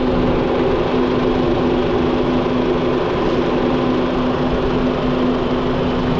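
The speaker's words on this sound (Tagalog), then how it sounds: "Tahimik na sir, oh, yung makina mo." A Honda Jazz engine idles with a steady, even hum and a constant low drone, close by and uninterrupted.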